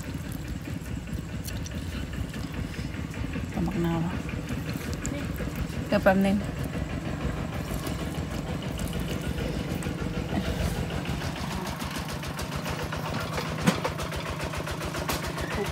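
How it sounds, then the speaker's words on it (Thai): A tractor's diesel engine idles and chugs steadily nearby, a low rhythmic rumble running throughout while people talk over it. "กำลังขับรถไถออกมา"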